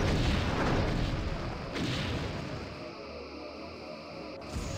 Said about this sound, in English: Lining up forward torpedo tubes.